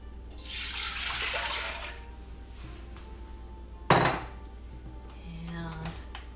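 Four cups of water with lemon juice being poured and moved into a pot for dandelion tea in a home kitchen, a splashing pour followed by a sharp metallic clank of cookware and softer knocks.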